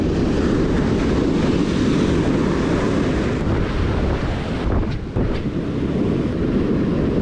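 Strong spring wind buffets the microphone on a surf-fishing beach, a loud continuous low roar blending with breaking surf, briefly easing for a moment before gusting again.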